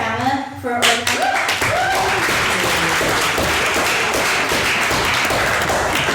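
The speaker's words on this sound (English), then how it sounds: "a round of applause for Emma for organizing." Audience applause at a debating society meeting: a brief voice opens, then dense, steady clapping from a roomful of people fills the rest, loud and close.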